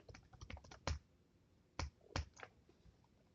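A computer keyboard being typed on to enter a new password, heard as close, quiet irregular clicks in short runs with a few sharper, louder keystrokes and brief pauses between them.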